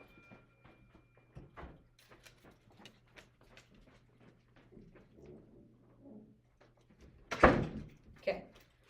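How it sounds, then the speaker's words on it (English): A door is pulled shut in a classroom, landing as one loud thump near the end after a stretch of quiet room noise and faint shuffling. "I'm going to pull this door closed."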